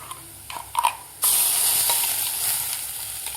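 Spice masala is stirred in a frying pan for bitter gourd, with a few light scrapes followed by a sudden loud, steady sizzle and hiss that holds to the end.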